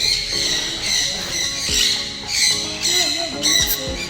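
Squawks and chirps from many birds at an aviary crowd together in a busy, continuous chorus, with a few sharper low knocks mixed in and no clear talk.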